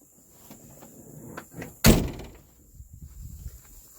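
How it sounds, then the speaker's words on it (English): A Volvo car door lock clunks once, loud and close, after a replacement lock has been fitted; faint small clicks come before it and quiet rustling follows. "so you can now lock and unlock the door."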